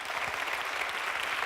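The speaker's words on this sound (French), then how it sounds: "On les applaudit" An audience at a digital women's award ceremony at the Folies Bergère applauds the winners with continuous, even clapping that stays fairly distant and steady throughout.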